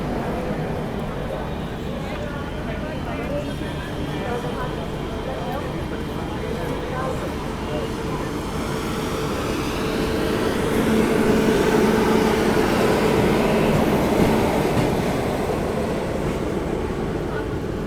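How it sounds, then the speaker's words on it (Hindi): The Vikramshila Express rolls past the Shramjeevi Express in a continuous, loud rumble of wheels and wind, the roar swelling for a few seconds midway before easing, steady and close throughout. "फाइनली वापस से श्रमजीवी एक्सप्रेस को ओवरटेक कर दिया है अपनी ट्रेन ने"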